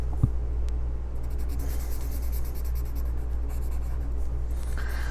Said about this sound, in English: I'm coloring in my squares.